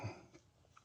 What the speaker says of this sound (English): here I go again with the cough